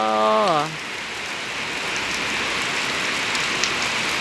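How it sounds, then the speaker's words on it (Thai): Rain falls in a steady hiss throughout; a brief harmonic tone, like a voice or horn, sounds at the very start and then fades. "ฝนตก ฝนดี ปีนี้ฝนดีตั้งหัวปี"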